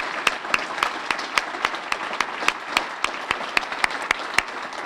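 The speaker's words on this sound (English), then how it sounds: "can we have another round of applause for both our recipients?" An audience at the 2024 Charles L. Whistler Awards Ceremony applauds the award recipients, with steady, moderately loud clapping and a few sharp, distinct claps standing out from the group throughout.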